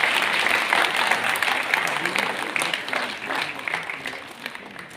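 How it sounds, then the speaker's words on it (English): Audience applause at an awards ceremony for fuel conservation, a dense steady wash of many hands clapping that holds for several seconds and eases slightly toward the end. "Ladies and gentlemen, can we have a big applause?"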